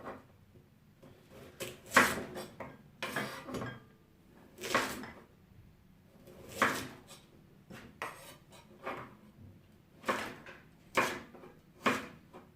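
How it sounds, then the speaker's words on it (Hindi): Knife slicing a peeled carrot lengthwise on a cutting board, a series of sharp, close taps and thuds in an irregular rhythm, with quiet gaps between cuts and no talking. "गाजर को पहले इस तरह लंबा काटना है।"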